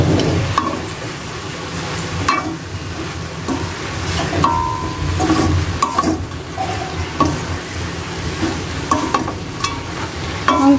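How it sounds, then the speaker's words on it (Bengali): Red spinach leaves frying and being stirred in a hot pan in a home kitchen, a steady crackling sizzle with scraping strokes of a spatula throughout, fairly close and continuous. "আর আমি ওর পাশে শাক ভাজুম"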